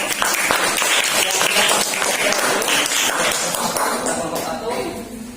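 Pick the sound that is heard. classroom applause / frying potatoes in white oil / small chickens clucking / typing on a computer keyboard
classroom applause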